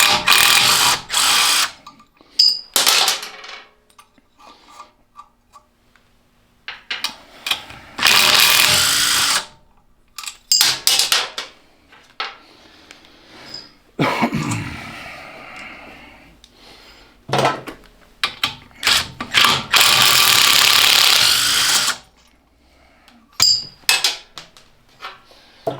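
Power tools and a ratchet remove head bolts from a donor Cub Cadet 582 tractor engine during teardown: loud bursts of impact-drill whirring alternate with ratcheting clicks and metallic clanks, close up, with pauses between.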